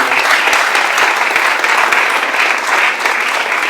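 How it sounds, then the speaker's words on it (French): A theatre audience at a play performance applauds steadily and loudly, a dense, continuous wash of clapping close by that holds an even level throughout with no voices rising above it. "Encore des applaudissements pour elle"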